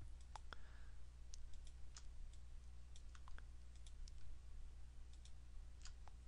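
Sparse, quiet mouse clicks at irregular intervals while selecting areas with the magic wand in Photoshop, each a short sharp tick over a steady low electrical hum, with no talking.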